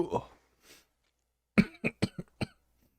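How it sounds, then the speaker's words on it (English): A short burst of harsh coughing, several quick coughs in a row close to the listener, preceded by a faint breathy sound and near silence. "I'm coughing already."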